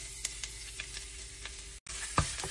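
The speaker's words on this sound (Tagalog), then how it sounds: "Gisahin lang natin yung bawang natin guys" Garlic sautéing in a pan, a soft steady sizzle with occasional crackles and pops, close but fairly quiet, with a brief moment of silence partway through and no talking.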